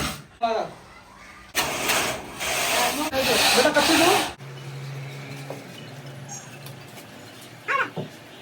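Harsh grinding and rubbing noise from kitchen flooring work runs loudly for a few seconds, with someone talking before and after it.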